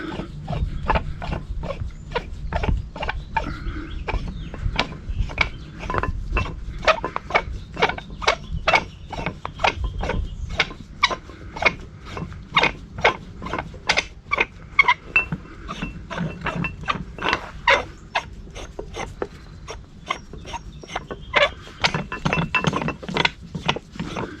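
Fine-threaded steel steering track bar on a Yeti steer setup being spun out by hand, giving a long run of rapid, evenly spaced metallic ratcheting clicks and clinks, close and fairly loud, with no talking.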